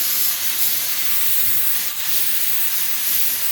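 A soda blaster fed by a 100 litre air compressor sprays, producing a loud, continuous bright hiss of rushing air with a brief dip midway, no voices present.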